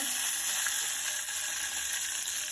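Cumin seeds, chilli, curry leaves and hing sizzle steadily in hot oil, a close, continuous crackling hiss with faint ticking pops running throughout, no voices over it.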